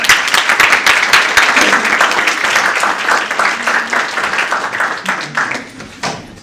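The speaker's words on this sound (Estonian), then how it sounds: "Teile aplausid." An audience at a youth council panel event applauds a panel member, with a burst of dense clapping that gradually thins and fades toward the end.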